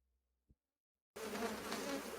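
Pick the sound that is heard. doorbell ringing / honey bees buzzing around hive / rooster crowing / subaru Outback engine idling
honey bees buzzing around hive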